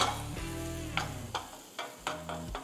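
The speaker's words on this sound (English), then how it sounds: "अभी हम हल्का सा इसे सॉटे कर देते हैं." Soya and green pea filling sautéing in a pan, with a steady close sizzle and several sharp scrape or stir sounds spaced through it, no voices.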